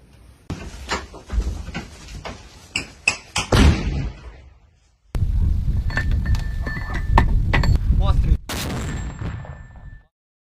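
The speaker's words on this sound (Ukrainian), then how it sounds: "Хлопці майстерно опанували 120-мм французький міномет." Several loud, sharp booming shots from a French 120 mm mortar ring out in quick succession, followed by clattering, metallic knocks and movement close by.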